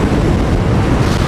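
Strong, steady wind roars and buffets the microphone near a spreading fire in Karşıyaka, İzmir, a continuous broadband rush filling the clip with no one talking.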